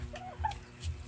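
A bantam chicken gives a few short, close clucks in quick succession against quiet background.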